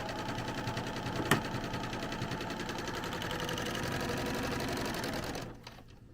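A sewing machine runs steadily for about five seconds, stitching through a holiday sweatshirt with a fast, even mechanical whir, then stops and the room falls quiet.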